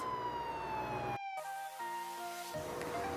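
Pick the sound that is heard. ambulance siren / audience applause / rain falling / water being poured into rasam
ambulance siren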